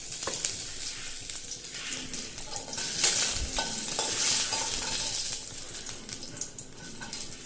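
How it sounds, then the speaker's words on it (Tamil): Dried red chillies fry in a hot pan, a close, continuous crackling sizzle broken by repeated stirring scrapes and small pops, with no talking. "வரமிளகா நல்லா வறுத்தாச்சு."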